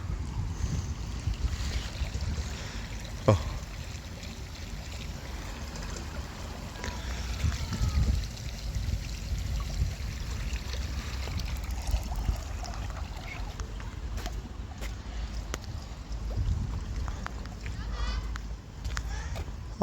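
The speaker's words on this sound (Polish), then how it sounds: "Tu znowu działają takie delikatne zraszacze." Steady hiss of gentle water sprinklers fills the background at a family amusement park, continuous and fairly even, with a person talking over it and occasional wind buffeting the microphone.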